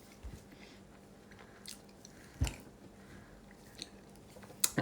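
Quiet close-up chewing of a Reese's peanut butter cup, soft moist squishy bites with a few sharper crunchy clicks, no talking.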